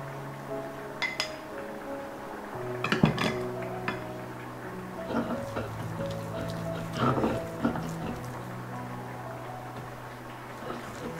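Pumpkin seed paste being ground by hand on a shil-pata grinding stone, giving scattered stony clinks and knocks with soft rubbing between them, fairly close and moderately quiet, without speech.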